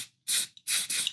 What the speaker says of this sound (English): let me see if I can spray